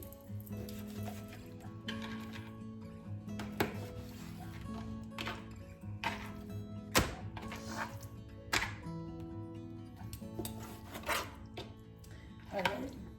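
A knife taps and chops against a cutting board while trimming fat off raw chicken for sesame teriyaki chicken, with irregular close, fairly quiet strokes over a soft background hum.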